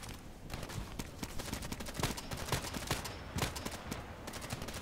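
Video game gunfire with rapid, crackling bursts of shots in quick irregular succession, fairly faint and distant, with no speech.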